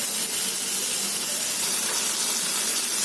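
Mutton pieces for tawa pasanday laid into a thin layer of oil on a hot tawa give a steady, dense hiss of frying, loud and even throughout with no talk.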